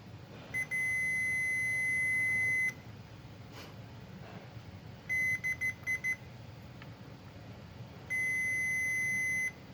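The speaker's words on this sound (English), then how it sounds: "Now let's check the continuity and make sure we got a good connection." A multimeter's continuity tester beeps during a power brick repair, with three steady tones: one long, a run of several short quick beeps, then another long one, sounding close over faint background noise with no talking.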